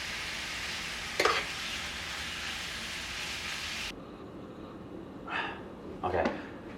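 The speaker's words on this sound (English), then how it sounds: "I'm just gonna saute this up with some oil, a little bit of butter" Garlic and herbs sauté over low heat in oil and a little butter, giving a steady close sizzle that drops away partway through, followed by a few sharp stirring scrapes against the pan.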